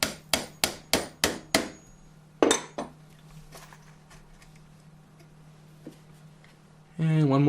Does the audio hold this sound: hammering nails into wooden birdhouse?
yes